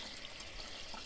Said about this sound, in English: Getting some water.